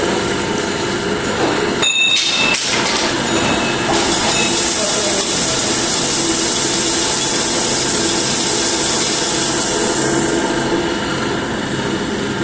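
A Chinese screw press extracts safflower oil, giving a steady, loud mechanical rumble and hiss throughout, with a brief clank near the start.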